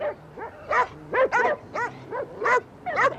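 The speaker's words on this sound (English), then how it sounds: "I've never heard so many dogs." Several cartoon dogs bark and yip in quick succession, a chorus of short, loud, overlapping barks with brief gaps between them and no talking.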